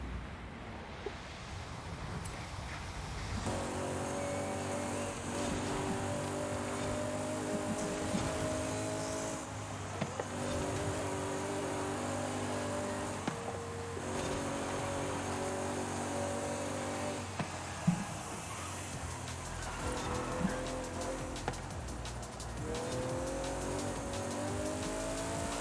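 A Chevrolet Camaro races in a driving video game, its engine droning steadily with rising revs and gear changes, plus occasional tire squeal, continuous and fairly even throughout.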